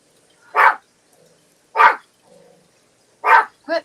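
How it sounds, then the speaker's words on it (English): A dog barks three times at a steady, unhurried pace, loud and close, with a short fourth yip at the end and quiet gaps in between. "Quit barking at Mario."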